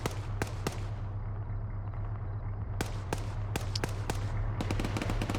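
Gunfire in the Arma 3 military shooter: scattered sharp shots, several in quick bursts, over a steady low rumble, with a lull in the middle before more rapid cracks.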